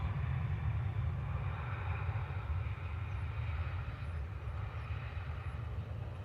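A Qatar Airways Boeing 787 Dreamliner arriving from Doha rumbles at Manchester Airport, a steady low jet-engine roar with hissing broadband noise throughout, heard from the airport's south side.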